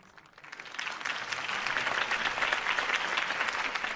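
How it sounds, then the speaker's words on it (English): Crowd applause after a political campaign speech in the Batman: The Telltale Series video game, starting faint and swelling within a second into steady, dense clapping from a large audience. "could have heard that applause"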